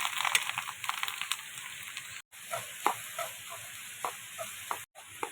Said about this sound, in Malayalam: തേങ്ങ വറുത്തിടണം